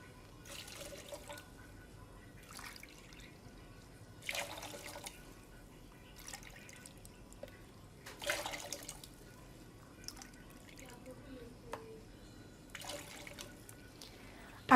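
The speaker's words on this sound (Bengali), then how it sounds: "এবারে এই আমি দিয়ে দিচ্ছি নর্মাল পানি।" Water is poured into a pot of chopped, washed green mango pieces, heard as faint splashing and trickling in short bursts separated by quiet pauses.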